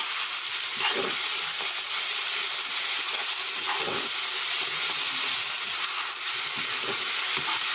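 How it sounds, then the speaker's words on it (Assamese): Pieces of local chicken cook with ginger-garlic paste in a pan on a wood-fired hearth, hissing loudly and steadily while a spoon stirs with a few scraping strokes. "এইখিনি এতিয়া মই কেঁচা গোন্ধটো যোৱালৈকে ভাজি ল'ম।"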